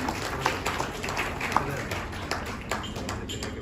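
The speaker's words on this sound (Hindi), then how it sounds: "जोरदार तालियां हो जाएं" An audience applauds at an award ceremony in a hotel hall, the Aligarh Wings Award held at the Lemon Tree hotel, giving a steady, dense wash of clapping for about four seconds with a few sharper claps standing out.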